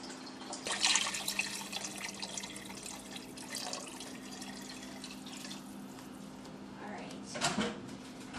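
Tap water runs into a 5-quart stock pot being filled about three-quarters full for posole, a steady close splashing stream under kitchen background hum, with brief louder gushes near the start and end.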